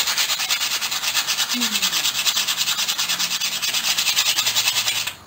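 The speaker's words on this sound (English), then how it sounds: "I'm going to take some coarse sandpaper and there's some big rust on here. I'm going to clean this rust off." Coarse sandpaper rubbed steadily over a rusty metal tool, a close, continuous rasping scrape in quick back-and-forth strokes that stops abruptly at the end.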